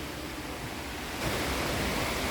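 River water in an amusement park rushes steadily as a dense, continuous broadband flow that grows slightly louder partway through, with no voices.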